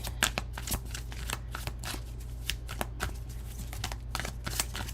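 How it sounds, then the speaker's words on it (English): Tarot cards shuffled by hand, a steady run of quick papery riffles and soft slaps, close and fairly quiet, heard alone without talk. "I shuffle."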